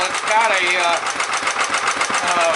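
A 1934 Briggs & Stratton model A engine powering a Wall-Quincy air compressor chugs with a rapid, steady knocking beat close by while someone speaks over it.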